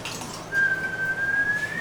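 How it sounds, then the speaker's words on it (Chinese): A person whistles a thin, wavering, off-key single tone for just over a second, faint breathy noise around it and no talk. "我吹口哨很难听"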